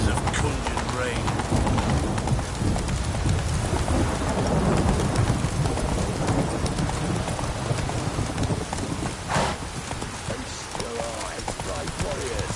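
Heavy, constant rain in a video game fills the scene with a dense wash of noise, along with low rumbling and occasional clattering sounds.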